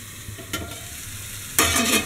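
Vegetable momo stuffing cooks in a pan with a soft, steady sizzle, then a louder burst of stirring and frying near the end.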